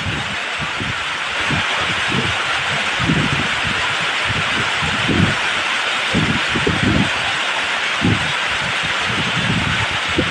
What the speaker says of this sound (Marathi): जोर वाढलाय पावसाचा तर लई येऊ राहिला